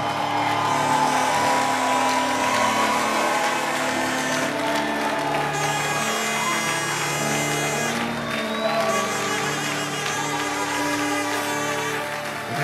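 A church congregation at a worship service applauds and cheers in acclaim of Jesus, with sustained clapping and voices mixed with music for several seconds.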